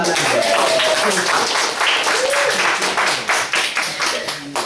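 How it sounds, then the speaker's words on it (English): An audience claps for a speaker in a steady burst of applause that gradually thins out, with voices mixed in. "let's give another round of applause to Megan"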